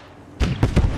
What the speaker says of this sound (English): We're throwing nade upstairs from the top.